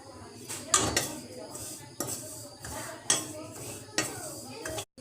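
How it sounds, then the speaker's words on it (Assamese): A spoon scrapes and clinks against a wok as dry semolina is stirred and roasted, with a rhythmic series of metallic strikes about once a second, close and fairly loud. "কেৰাহীত এতিয়া মই সুজি দি দিছো"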